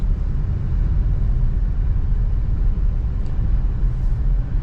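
A car climbing a steep hill road at Tawangmangu in second gear, with a steady loud engine drone and road rumble heard from inside the cabin, continuous and unbroken.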